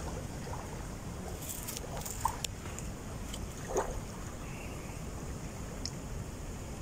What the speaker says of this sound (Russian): Сейчас я вам покажу шум прибоя реки Клязьма